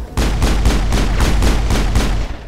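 Gunfire in the video game Mass Effect, a loud, rapid burst of about eight evenly spaced shots in steady rhythm, close and continuous, with no voices over it.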